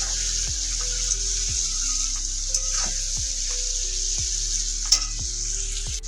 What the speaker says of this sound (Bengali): তো কাঁচা লঙ্কাটাকে আগে একটু দিয়ে নিলাম। এটাকে একটু 5 মিনিটের মতো হালকা একটু কষিয়ে নিতে হবে।